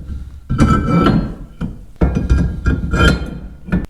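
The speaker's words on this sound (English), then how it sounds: "So let's hang our two rotors." Brake rotors being hung on a Gen 2 Dodge Viper during a rear big brake upgrade, with a series of close metallic clinks, clanks and thunks in irregular bursts.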